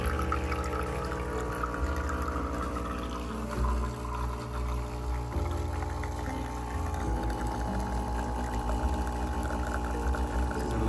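An espresso shot pours from a Breville Oracle Jet machine, a steady pump hum and liquid flow running continuously with no talk.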